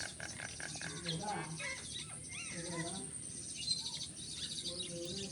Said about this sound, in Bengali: এই পাখিটা হলো আমার অসমীয়া ভাষায় একে বলে শালিকা পাখি, আর গ্রাম্য অঞ্চলের লোকেরা একে শালিক বলে।